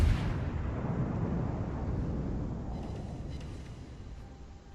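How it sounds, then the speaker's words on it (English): A battleship gun salvo fires at the Bismarck in World of Warships, one loud booming blast up front that rumbles and slowly fades over several seconds, with no talk. "Shots out on the Bismarck."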